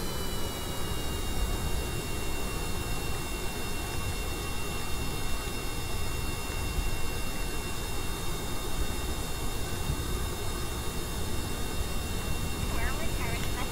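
Seaplane with engines mounted on the backs of its pontoons in Kerbal Space Program, a steady droning engine roar with broad hiss running throughout while it lands.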